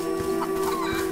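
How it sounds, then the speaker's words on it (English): Chickens clucking outside in the video game A Plague Tale, with several short, clear clucks spaced across a brief moment over a steady game ambience tone. "Chickens outside."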